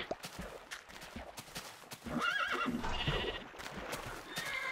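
Minecraft horses heard in a farm-animal scene: soft snorts and whinnying mixed with quiet game ambience and occasional bleating, moderately close and continuous throughout.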